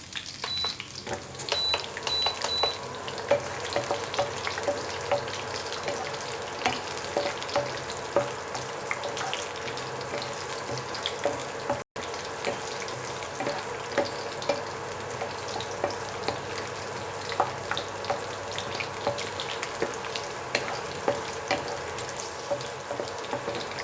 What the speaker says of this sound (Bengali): অন করে একদম লো হিটে বাদামটা আমি ভাজবো